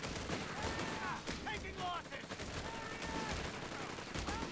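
MG 42 machine gun firing in the strategy game Company of Heroes 3, crackling bursts mixed with other battle noise, fairly faint under steady talk from commentators.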